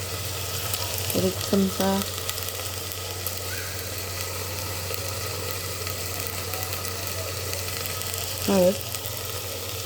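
Spices sautéing in a pan while chana bhaji is cooked, a steady low frying sizzle with a faint hum underneath, and brief speech heard over it.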